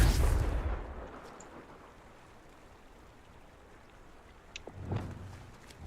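A Confringo fire spell from the Hogwarts Legacy video game erupts in a short, loud blast that fades into a low rumble, followed by a quieter second burst a few seconds later.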